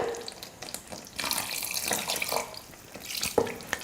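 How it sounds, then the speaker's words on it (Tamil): Water is poured into a pan of cooking chicken gravy, splashing and gurgling close by for a few seconds. "இப்போ நான் கொஞ்சமாக தண்ணி சேர்த்துக்கிறேன்"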